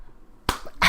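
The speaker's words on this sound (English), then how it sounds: "I just slapped Paul in the back of the head" A person is slapped on the back of the head during a podcast recording: after near silence come two sharp, loud smacks close to the microphone.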